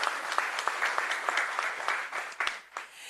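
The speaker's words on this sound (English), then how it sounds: "A round of applause for them." A conference audience applauds, a brief burst of many hands clapping at moderate distance that thins out after about three seconds.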